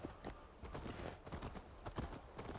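Horse hooves clip-clopping in Assassin's Creed Valhalla, a steady walking rhythm of soft, close hoof thuds repeating evenly throughout at low volume.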